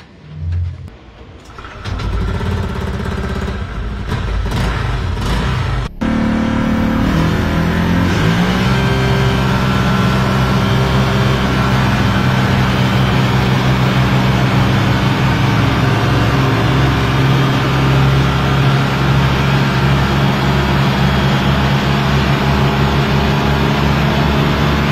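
A Honda Click 125 scooter engine, side panels removed, fires up and winds into a loud, sustained high-revving drone on a top-speed run, the pitch climbing then holding close and steady.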